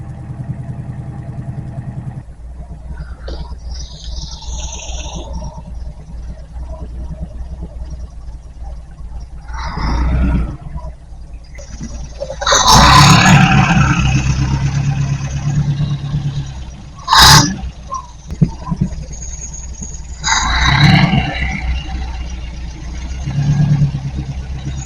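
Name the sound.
MGB Roadster engine running, idle being adjusted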